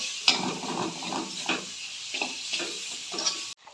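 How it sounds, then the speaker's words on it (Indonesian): Rendang spices fry in oil in a pan while being stirred, giving a steady sizzle broken by repeated scraping strokes of the spoon, close and fairly loud, ending abruptly. "Diaduk-aduk sampai masak. Tambahkan minyak dikit lagi. Aduk-aduk."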